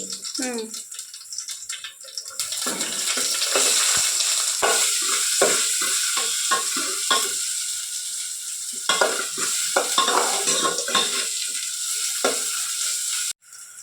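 Oil tempering with mustard seeds, curry leaves and onion crackles and sizzles steadily in a pan for a vegetable bajji, with stirring scrapes throughout and women chatting over the frying.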